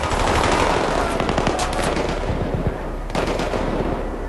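Dense, sustained automatic gunfire from enemy soldiers in Battlefield 3 co-op, loud and continuous with overlapping bursts, briefly dipping before resuming.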